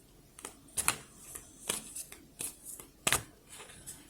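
A deck of cards is shuffled, giving a series of crisp riffling bursts and snaps in an uneven rhythm, close and fairly quiet.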